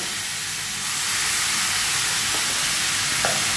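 Grated bottle gourd frying in a pan gives a steady, close sizzling hiss that swells slightly after the first second and carries on without a break, with a faint stir or scrape near the end.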